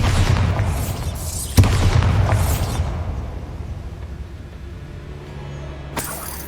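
The Bombarda spell goes off in Hogwarts Legacy with a loud, close explosive boom, then a debris-filled rumble that fades away, followed by a second sharp burst near the end.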